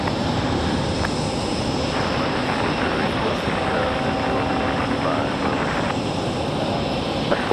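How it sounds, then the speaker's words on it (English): A Boeing Dreamliner airliner on approach to runway 5 right at Raleigh-Durham International, heard as a loud, steady engine roar throughout, with an air traffic control radio voice talking over it. "I'm gonna let you guys enjoy the Dreamliner in a couple minutes without your host here"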